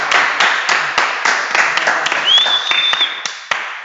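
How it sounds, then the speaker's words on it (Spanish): Audience applause greeting a guest, a psychologist, at a live interview in Armenia: steady clapping from a crowd of many hands throughout, dense and fairly close. "vamos a darle un aplauso a este compañero"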